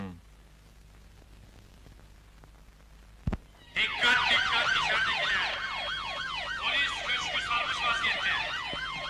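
A loud wailing police siren starts abruptly after a sharp knock and keeps cycling up and down, close and dominant over a faint background.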